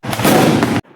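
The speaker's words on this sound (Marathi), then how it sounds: "बॅटीचा आवाज ऐकून आजूबाजूचे पोरं पण यायलेत का गोळीबार व्हायला असल्यासारखं" A cricket bat strikes a ball with one sharp, very loud crack that sounds like a gunshot, ringing briefly before cutting off, followed by a moment of faint background noise.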